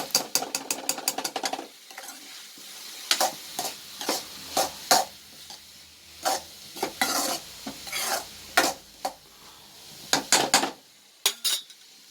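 Green chilli, cumin and shallots frying until crisp for a Kerala beetroot thoran, with a soft sizzle beneath repeated sharp clinks and scrapes of a spoon stirring against the pan in irregular bursts.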